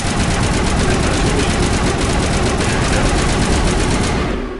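Rapid, continuous automatic gunfire from the Mass Effect video game fills the whole stretch, loud and dense with no pauses, fading slightly at the end.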